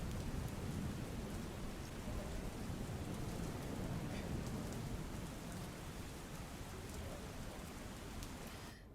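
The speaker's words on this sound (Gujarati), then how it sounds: "વરસાદ વરસી રહ્યો છે" Heavy rain pours over Surat city in a steady, dense, loud hiss that stays constant throughout, with no voices.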